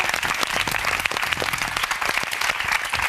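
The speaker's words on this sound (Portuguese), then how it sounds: "Uma salva de palmas para vocês e para a Ana Silva da Amplos." Applause from a studio audience on a Portuguese talk show, a steady, dense clapping close up that holds evenly from start to finish with no voices heard.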